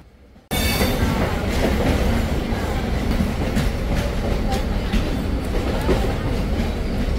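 A train runs on the railway tracks near Chhatrapati Shivaji Terminus in Mumbai, starting abruptly as a loud, steady rumble with rhythmic wheel clatter and brief squeals, close by and continuous throughout.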